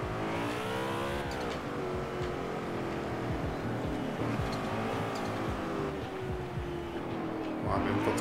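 An upgraded 1997 BMW M3 engine in the racing game Forza Horizon 4 climbs and drops through loud revving sweeps as it accelerates and shifts, with tyre noise underneath and a voice talking at times.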